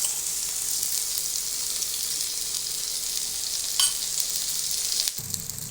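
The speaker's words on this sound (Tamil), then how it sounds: "எண்ணெய் ஊற்றிக்கலாம்." Oil hisses loudly and evenly under a Madurai-style street-food mutton dosa frying on a griddle. Near the end come a brief scrape and then a sharper metallic clatter. No voices are heard.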